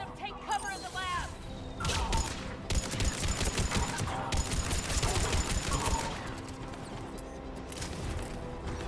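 Rifle gunfire in Mass Effect 3 Legendary Edition comes as dense bursts of rapid shots and clattering impacts through a chaotic battle, loud and continuous, with voices talking over the action.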